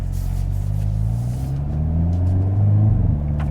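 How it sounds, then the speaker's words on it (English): A 2023 Hyundai Kona N crossover with 286 horsepower on overboost, its exhaust giving a steady, deep, loud droning rumble that swells as the revs climb and then eases back. "that exhaust sounds pretty damn good"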